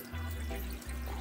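Water flows from irrigation drip emitters fed by a pump into plastic solo cups in an eight-plant self-watering tote, making a steady, close pouring trickle that runs continuously and alone.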